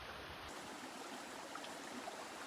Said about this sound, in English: Look at this cool little creek.